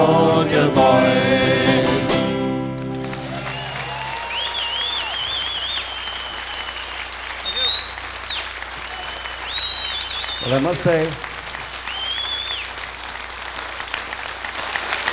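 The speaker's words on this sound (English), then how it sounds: "I'm glad you're giving yourself a clap because you're worth it." A folk concert audience at Massasoit College applauds as a song ends, a broad, steady clapping that carries on beneath someone talking from the stage.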